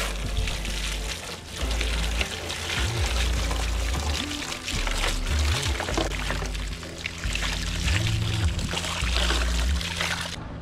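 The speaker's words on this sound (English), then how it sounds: "you want to rinse the degreaser off." Water rinses degreaser off faded plastic grilles from a BMW E30, a loud splashing pour with uneven surges and trickling, close by and without speech.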